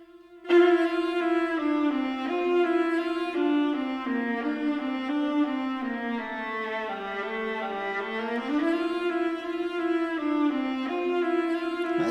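A MIDI sample-library viola plays a sustained, expressive counter melody with smooth, gliding pitch changes, loud and close, heard alone for about twelve seconds in a hybrid film-score production.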